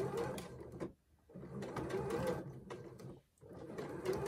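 Sewing machine backstitching quilting lines on a fabric crochet hook roll-up wrap, a close rapid mechanical whir in three runs separated by short pauses, moderately quiet.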